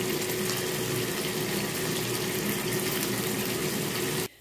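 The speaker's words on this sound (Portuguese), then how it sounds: "Aí eu vou colocar um pouquinho de leite." Milk is poured into a cooking pan in one steady, continuous liquid gush that runs close and even for about four seconds before stopping abruptly.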